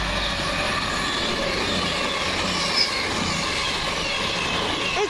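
Diesel train running steadily nearby, a continuous rumbling roar with faint rail noise as a CrossCountry Voyager arrives at Coseley station, with no voices.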